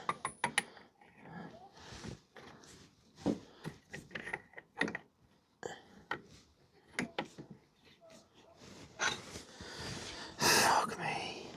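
Metal tool clicks, ratcheting and scraping as a clutch puller is worked against the clutch threads on an MZ motorcycle, a series of irregular close taps and grinding bursts with breathy sounds in between, growing louder near the end.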